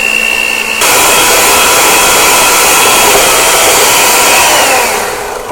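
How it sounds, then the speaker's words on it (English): An electric mixer beats butter and cream cheese for a pumpkin roll filling, a loud steady whirring drone that starts abruptly, holds for several seconds, then eases slightly, with no talk. "I'm going to use an electric mixer again and beat it until it is really light and fluffy"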